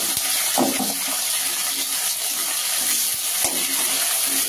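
Chopped onions frying in oil with spices in a home kitchen pan, a steady hissing sizzle broken by a couple of louder crackles, heard close up with no voices.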